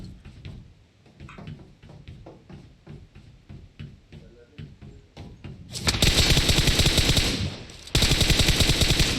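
Gunfire in PUBG Mobile starts as a run of scattered single shots and short bursts, then turns into loud, sustained automatic fire in two long stretches with a short gap between them, heavy and close.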